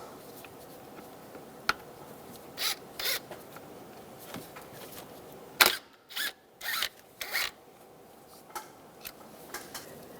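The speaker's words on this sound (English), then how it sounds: "Using a 10mm socket, take this bolt out." A 10mm socket loosens a bolt on the EGR tube of a 1999-2006 Chevrolet Silverado 1500, giving a few short metallic clicks and ratcheting scrapes at close range, spaced out over quiet workshop background.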